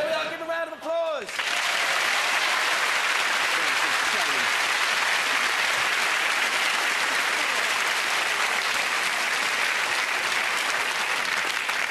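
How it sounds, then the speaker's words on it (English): A studio audience at a 1994 Christmas special of the Big Break game show bursts into sustained, loud applause after a brief voice at the very start, the clapping dense and continuous to the end. "Give them a round of applause"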